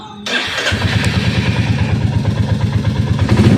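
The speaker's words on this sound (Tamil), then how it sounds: "வண்டி ஸ்டார்ட் பண்ணலாம்." A Royal Enfield Classic 350 motorcycle, fitted with its ECU, starting up: a sudden catch and then a loud, close, steady thumping idle with an even, rapid pulse that holds through to the end.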